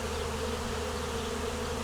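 A wild bee swarm moving into a barn gives off a dense, continuous buzzing hum, loud and close, with many insects droning together and no talk.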